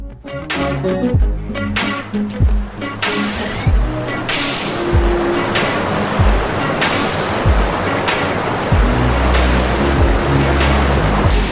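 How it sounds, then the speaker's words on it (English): A waterfall pours off a cliff in Costa Rica, giving a loud, steady roar of rushing water that holds constant throughout, with sharper splashing bursts on top. "when we watch water fall off a cliff like this, we lose our mind"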